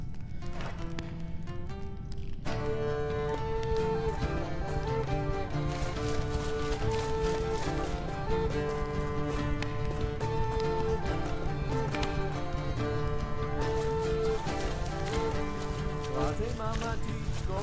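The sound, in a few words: horse hooves clip-clopping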